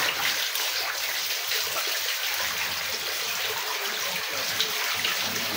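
Water from a pump gushes out under pressure in a steady, loud, unbroken rush that fills the whole stretch, with no voices.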